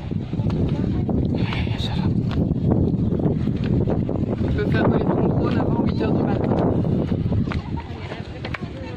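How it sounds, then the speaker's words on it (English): Strong wind blowing across a microphone on a hilltop viewing deck at the Chocolate Hills, a steady loud rushing roar that continues without break, with people talking throughout. "The wind feels so cool up here."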